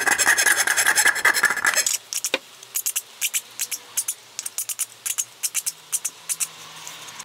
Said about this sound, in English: I've got a half round file, flat on one side, curved on the other.